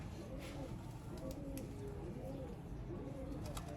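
Low, soft cooing of rooftop pigeons in Sialkot, Pakistan repeats through steady background noise, with a faint murmur of voices mixed in.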